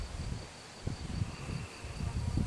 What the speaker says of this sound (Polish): Widać pszczoły już przylatują.